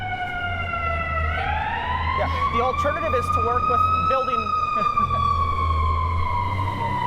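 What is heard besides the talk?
emergency vehicle sirens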